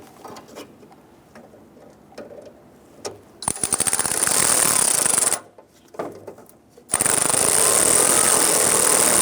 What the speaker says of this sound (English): We're gonna go ahead and tighten down our clamp here.